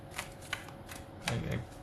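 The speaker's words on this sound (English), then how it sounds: "some people don't like it when I shuffle off camera" Tarot cards being shuffled by hand in a quiet room, soft riffling flutters with several brief sharp flicks and a longer burst near the end, fairly faint.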